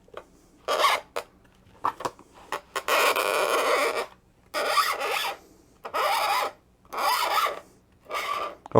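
A divider point scribes a circle into a piece of wood, giving repeated raspy scraping strokes, short at first and then longer sweeps with brief pauses between, close and clear with no talking.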